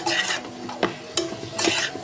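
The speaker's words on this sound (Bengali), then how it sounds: "এটা প্রায় ভাজা হয়ে গেছে এটাও দিয়ে দিলাম গোটা পেঁয়াজটা আর একটু ভেজে নেব" A whole onion, its layers separated, sizzles as it fries in a pan, with bright crackling bursts and a few sharp stirring clinks of a utensil against the pan throughout the short stretch.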